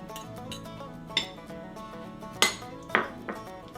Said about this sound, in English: Gonna mix in the jalapenos.